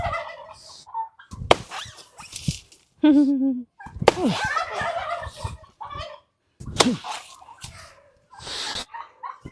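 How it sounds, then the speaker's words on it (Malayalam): Chickens cluck and squawk noisily in repeated loud bursts near someone chopping out a coconut palm heart, with no talking. "ഇവിടെ കോഴികളെല്ലാം ഭയങ്കര ബഹളമാണ്"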